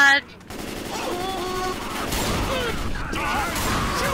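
Rapid gunfire in the zombie shooter Left 4 Dead 2, a dense sustained burst of shots lasting several seconds, loud and close, with players talking excitedly over it.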